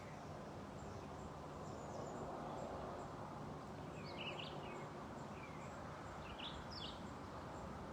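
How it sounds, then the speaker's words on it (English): Scattered birds sing and chirp outdoors in short, faint calls over a steady broadband hiss of ambient noise, with no talking. "Or the birds just pop into your awareness"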